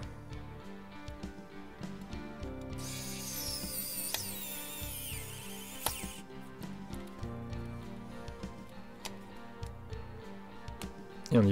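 A screw being turned into a plastic part of a Bugatti Veyron model kit without oil, giving a close, quiet series of small ratcheting clicks and creaks with a faint hum beneath.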